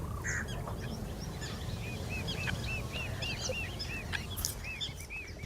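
Northern pintails and grey geese calling on a wetland: many overlapping honks, whistles and quacks at moderate distance over a steady low background rumble, with no talking.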